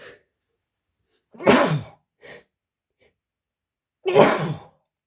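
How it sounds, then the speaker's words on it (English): Two loud, close sneezes about three seconds apart, each a sharp burst with a short breathy sound between them, no talking. "Sorry, I'm going to sneeze."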